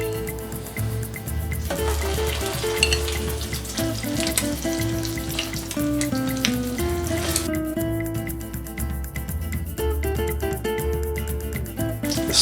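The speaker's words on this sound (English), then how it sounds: "Let's start by cooking the foie." Foie gras cooks in a pan with a bright, crackling sizzle and popping fat, steady and close throughout with uneven spatter bursts.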